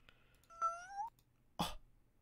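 A person's voice imitates a kitten meowing, giving a rising, tonal meow followed by a short, sharp squeak-like burst, close and fairly loud, with no other talk.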